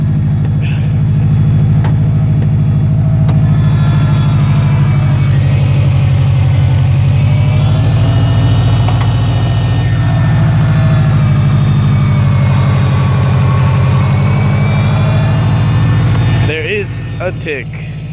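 Car engine on 1000cc injectors idling steadily during warm-up with a faint tick on both sides, a loud continuous low rumble under someone speaking, ending with a short blip and clatter.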